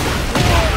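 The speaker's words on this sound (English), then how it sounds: "Explosion." An explosion effect in Tekken hits a Zafina match, one sharp blast over a loud, dense wash of game noise.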